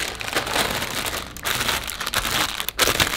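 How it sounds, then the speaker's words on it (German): Continuous crinkling and crunching of tortilla chips being crushed into crumbs inside a bag, close and steady for a few seconds with no talking. "Einfach in der Tüte. Von klein machen, was wir wollen, sind Tortilla-Chips-Brösel."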